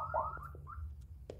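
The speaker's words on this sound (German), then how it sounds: "Ich muss erstmal die Alarmanlage ausmachen" An alarm system in the Ghost Exile video game sounds a wavering electronic tone over a low steady hum, moderately loud and continuous with no voices.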